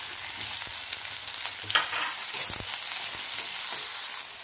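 Sliced onions drop into a hot oil tempering of cumin and mustard seeds and sizzle steadily, with a few stirring scrapes and brief louder bursts, close and moderately loud, no talking.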